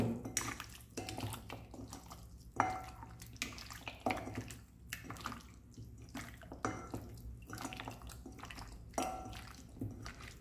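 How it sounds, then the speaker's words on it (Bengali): Marinated mutton is mixed by hand with spices for a Mughlai mutton curry, giving close, wet squelching and slapping sounds in an irregular rhythm, with occasional clinks of a bowl. "এবার এটাকে আমি হাত দিয়ে মিক্স করে নেব।"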